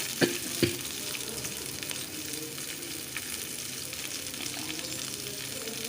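Onion sputters softly in hot oil along with urad dal and cumin, giving a low, even sizzle with two sharp knocks near the start and faint stirring throughout.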